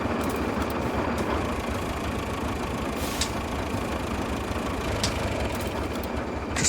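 A truck's engine idles in the Roadcraft video game, a steady, continuous low rumble with a faint rough knock running through it and no voices over it.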